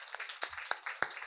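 An audience at a Christian gathering claps hands in a few scattered, sharp claps spaced irregularly, fairly faint and short.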